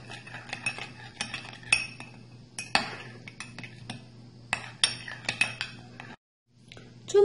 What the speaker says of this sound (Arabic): ونخلط جيدا